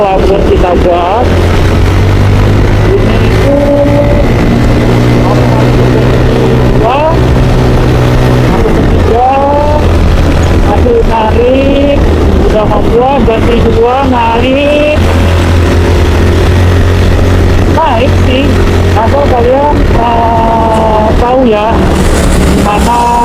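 Yamaha Jupiter Z motorcycle climbing a steep hill, its engine revving up through first and second gear with repeated rising pitch sweeps at each shift, close and loud over strong wind noise, with a rider talking at times.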